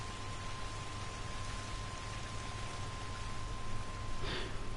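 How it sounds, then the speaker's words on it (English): Heavy rain falls in the Red Dead Redemption 2 video game on a PS4 Pro, a dense, even hiss that runs steadily throughout with no voices. "Look at that chunky rain."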